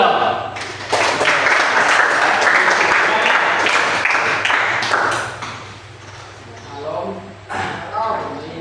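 Students applaud in a classroom, a burst of clapping that fills the room loudly for several seconds, then thins out and fades into scattered claps and quieter room sound.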